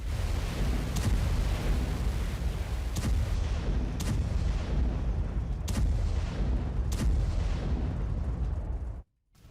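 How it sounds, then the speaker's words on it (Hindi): Missile attack explosions recorded in Beit Shemesh, a loud continuous roaring rumble punctuated by several sharp, distant-sounding blasts, ending in a sudden cut. "बेत शिमेश से हमले का वीडियो आया सामने"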